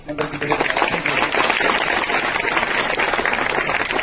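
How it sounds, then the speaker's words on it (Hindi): An audience at a seminar applauds, a dense, loud wash of clapping that builds within the first half second and then holds steady to the end. "आपके लिए भी तालियां बजा देंगे।"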